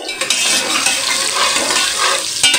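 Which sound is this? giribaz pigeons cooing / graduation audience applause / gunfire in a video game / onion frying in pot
onion frying in pot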